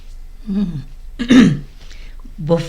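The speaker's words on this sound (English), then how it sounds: "I was really clearing my throat." A voice clears its throat several times up close, short rough grunting rasps separated by brief pauses, loud and dry.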